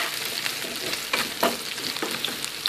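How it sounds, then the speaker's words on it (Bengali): Onion frying in oil in a pan for a Bengali eggplant and potato dish with dried fish, a close, dense crackling sizzle with brief stirring scrapes throughout. "তেল দিয়ে তেলের মধ্যে পেঁয়াজটা দিয়ে দিয়েছি"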